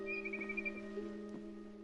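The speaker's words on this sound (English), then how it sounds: "Then I heard chirping outside my window." Soft, thin bird chirps outside a window in the video game What Remains of Edith Finch, a few faint high tweets over a steady low musical drone, quiet and without talk.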